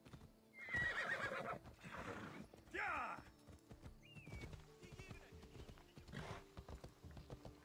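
Horse neighing and whinnying with hooves clip-clopping in the video game Assassin's Creed Odyssey, the calls standing out over game sounds while a voice speaks now and then.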